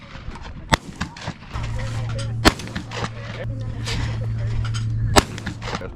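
Shotgun shots at outdoor clay target practice, three sharp, loud reports spaced a couple of seconds apart over a steady background hum, with faint voices between shots.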